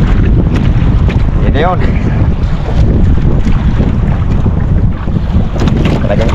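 Strong northeast monsoon wind (amihan) buffeting a microphone on a boat at sea: loud, constant roaring gusts and rumble with water noise, while people talk briefly over it.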